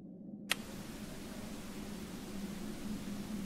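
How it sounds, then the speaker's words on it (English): Random white noise switched on from a generator in the game 1953: KGB Unleashed, starting with a sharp click and then a steady broad hiss that holds evenly, with a faint tonal whine underneath. "So now we're producing white noise, just random white noise"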